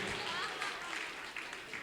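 A seated crowd applauds at an Urdu poetry mushaira at Islamia College of Commerce, a steady, dense wash of hand clapping that runs the full length without a break, fairly close and even in level.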